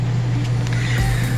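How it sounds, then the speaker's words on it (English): A steady low mechanical hum with a constant droning tone fills the space, an air conditioner running inside a trailer. "in the trailer, and the AC is on."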